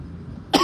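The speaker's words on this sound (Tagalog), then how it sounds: "Inuubo ako." A single short cough from a man on a live stream, sudden and close after a quiet moment.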